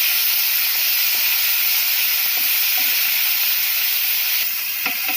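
Onion paste fries in hot oil with a whole dried chilli and bay leaves, making a loud, continuous sizzling hiss close by, steady throughout, with a few faint clicks of a spatula near the end.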